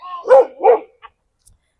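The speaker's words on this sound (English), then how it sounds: "There's quite a few dogs barking around me" Dogs bark nearby in two quick, loud woofs close together, followed by a faint yip and another bark starting at the end, with quiet between them.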